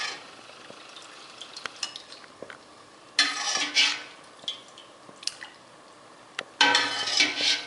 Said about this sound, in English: You're going to ladle out your French onion soup.